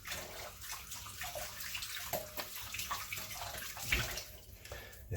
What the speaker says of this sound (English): wash our hands off a little bit.